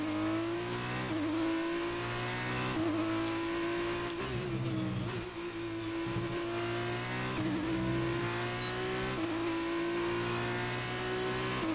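Formula 1 car in the F1 2019 video game lapping the Shanghai circuit in China, a high-pitched engine whine rising and falling through repeated gear changes, with brief tire squeal, steady and continuous with no talking.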